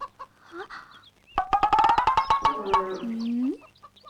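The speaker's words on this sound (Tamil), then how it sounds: "அந்த கோழி எல்லாம் திறந்து விடுமா" Chickens let out of their pen cluck and squawk in a rapid, loud burst of calls, one drawn-out cry trailing off, with faint voices around them.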